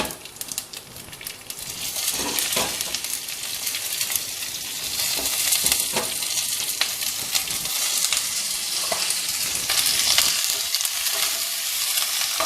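Cumin, red chilies and curry leaves fry in hot oil in a home kitchen while uppu urundai is being made. A loud, continuous crackling sizzle fills the clip, with scattered sharper pops and the scrape of stirring.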